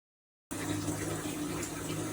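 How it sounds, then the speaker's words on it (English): Running water fills a bathtub, a steady continuous gush from the tap that starts abruptly after a moment of silence and carries on at an even level. "So I'm just running a bath."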